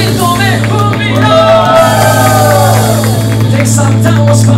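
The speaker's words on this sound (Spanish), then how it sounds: "¡Un grito de júbilo!" A church congregation at a Spanish-language worship service raises a loud, sustained collective shout of joy, cheering and whooping together over steady low accompaniment and room noise.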